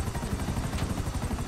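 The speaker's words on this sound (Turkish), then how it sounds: "Şimdi peşimdeki helikopterleri halletme zamanı." Helicopters chasing the player in a video game: a steady rotor thrum with pulsing low-end chop and broadband engine noise, loud and continuous throughout, with no voices over it.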